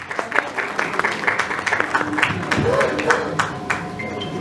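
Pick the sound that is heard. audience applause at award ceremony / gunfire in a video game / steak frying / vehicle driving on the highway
audience applause at award ceremony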